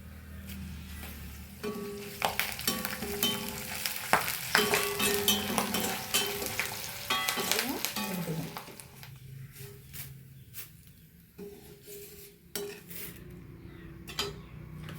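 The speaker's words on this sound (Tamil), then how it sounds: "ஃபைனலாக கருவேப்பிலை பொரிச்சு எடுத்துக்கணும்." Curry leaves crackle and fry in hot oil for kara boondi, with clinking of a ladle against the pan and stirring over a steady sizzle that quiets toward the end.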